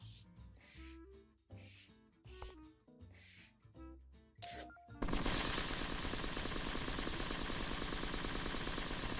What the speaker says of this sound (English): Sounds like a machine gun.